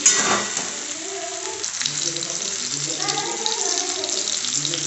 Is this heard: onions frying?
yes